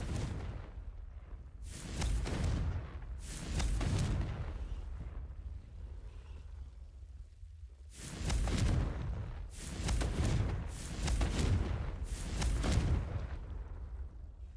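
A Confringo fire spell explodes in a Harry Potter video game, giving a series of loud, rumbling booming blasts that come in clusters with short pauses between them.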